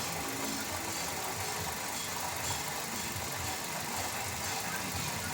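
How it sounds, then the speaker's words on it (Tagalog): A Toyota Avanza engine idles roughly with a misfire, an uneven, knocking rumble, steady and close throughout, with no clear talking. "Pakinggan nyo yung tunog ng makina."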